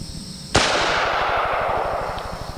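A Mossberg .410 pump shotgun fired one-handed lets off a single sharp, loud blast that rings out and decays over a steady low rumble of background noise.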